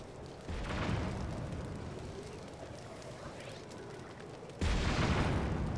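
Cannon drone bombs bursting in Tears of the Kingdom, a dense rumble of blasts with a loud fresh explosion near the end, set against a busy game soundscape.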